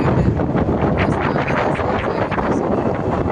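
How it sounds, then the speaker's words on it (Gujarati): Steady, loud cold wind on Kadamgiri hill in rainy weather buffets the microphone with continuous rushing noise, no voices. "ઠંડો ઠંડો પવન આવે છે."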